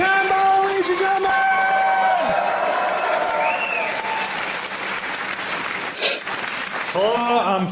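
A live stand-up comedy audience in Glasgow cheers and applauds as a comedian takes the stage, a dense steady wash of clapping with whoops and shouts over it, while a voice carries above the crowd at times.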